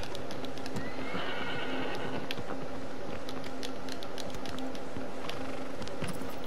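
A horse in the Shadow of the Colossus video game gives a short whinny near the start, over steady game ambience with scattered clicks and taps.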